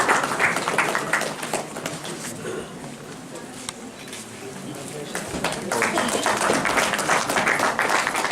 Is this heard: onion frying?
no